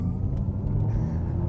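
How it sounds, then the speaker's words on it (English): An Audi RS e-tron GT electric car launches at full throttle in dynamic mode, heard as a steady, low cabin and road rumble from inside the car, with no voices. "I'm going to turn on dynamic mode on the dash, push my foot down on the brake, select full throttle and go."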